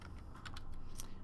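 Keys on a computer keyboard tapped a few times in a short, quiet burst of light clicks over a faint room hum, with no voices.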